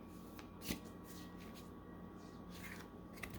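A deck of tarot cards is shuffled quietly, with soft papery riffles and one or two sharper flicks over a faint steady background hum.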